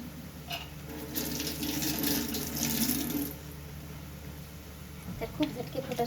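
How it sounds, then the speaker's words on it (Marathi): Fresh coriander and tomatoes are rinsed under a running kitchen tap, giving a splashing stream for a couple of seconds before it eases off. A faint clucking chicken can be heard in the background near the end. "इथे ओली कोथिंबीर आणि टोमॅटो मी धुवून घेते स्वच्छ."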